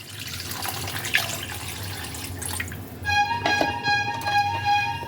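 Water streams into a simmering koi fish and cauliflower curry in a pan, a close splashing pour with bubbling and liquid sounds that grows louder in the second half.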